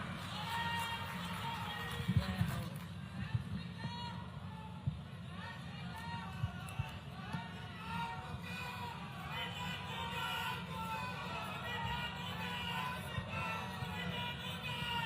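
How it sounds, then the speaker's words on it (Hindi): A large crowd at a political rally in Sirsa with the Chief Minister makes a continuous, dense roar of clapping and cheering mixed with babble and some voices over it, steady for about fifteen seconds. "जोरदार तालियां बजाएं।"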